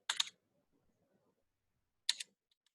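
Two short bursts of clicky keystrokes on a computer keyboard, close and fairly loud, separated by about two seconds of quiet, no speech.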